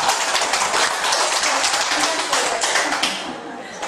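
A congregation in a church service bursts into dense, steady clapping that carries on for a few seconds before easing slightly, with faint voices mixed in.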